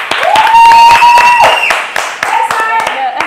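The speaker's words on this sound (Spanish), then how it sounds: "Un aplauso para ella, por favor." Loud clapping from a crowd fills the clip, steady and sustained, with a bright musical tone ringing over it.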